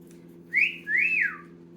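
Parrot imitating a human whistle, two short rising-and-falling whistled notes in quick succession, clear and close over a faint low background hum.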